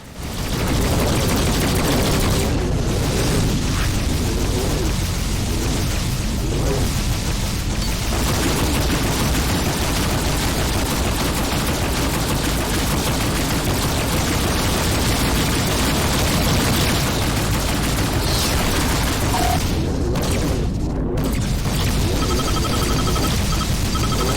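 Dense, continuous space-combat noise in Rebel Galaxy Outlaw: a roaring wall of rapid gunfire and missile blasts that stays loud and unbroken throughout.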